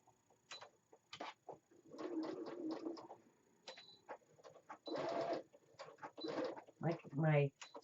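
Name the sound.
sewing machine sewing a face mask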